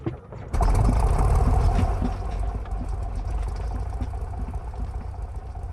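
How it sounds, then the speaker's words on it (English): A Cessna 172 Classic piston engine cranking and catching in Microsoft Flight Simulator 2024, starting abruptly after a brief quiet and settling into a steady loud rumbling idle with mechanical rattle. "Then we can pull the engine starter right up here."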